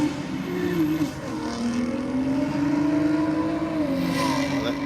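A BMW Touring Wagon and a BMW sedan in a roll race, engines droning steadily at high speed with a rising pitch. The sound is continuous and fairly loud, with no voices.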